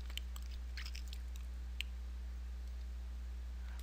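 Faint computer mouse clicks while navigating Oracle General Ledger software, a few quick, light taps over a steady low electrical hum in a quiet room.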